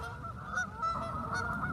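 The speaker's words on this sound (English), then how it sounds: "Oh, the geese are going crazy for some reason. You hear them?" Geese honking in a group outdoors, a steady chorus of overlapping calls at moderate distance with several louder honks standing out, no talk over them.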